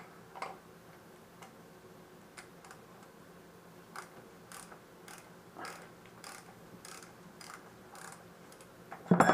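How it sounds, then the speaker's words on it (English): Oil filter being loosened from a Ducati Monster M1100 motorcycle with a regular oil filter wrench, sparse faint metallic ticks and clicks at uneven intervals, ending in a louder scrape. "We're going to take off our oil filter now."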